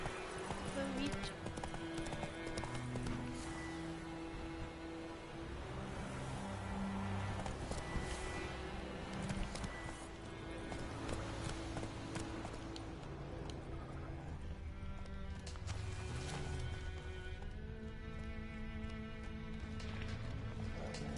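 Roach the horse galloping in The Witcher 3: Wild Hunt, a steady rhythmic clip-clop of hooves under game music and ambience, with people talking over it.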